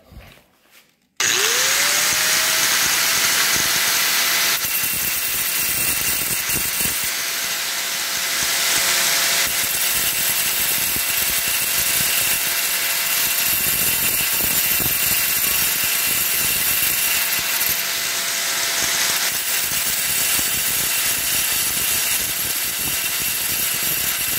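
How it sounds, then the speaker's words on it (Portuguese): An angle grinder with a grinding disc cuts a 45-degree edge on porcelain tile, starting up after a brief pause and then whining loud and continuous at a steady pitch, with gritty rasping throughout and no speech. "Eu vou remover aqui um pouquinho ainda com o disco de desbaste e depois eu venho com o disco de acabamento"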